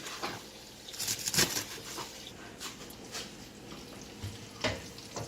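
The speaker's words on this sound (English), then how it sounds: "So this is how you have to saute your sausage." Sausage and cabbage sautéing in a pan, a soft continuous sizzle broken by scattered stirring clicks and scrapes, close and fairly quiet, with no voice.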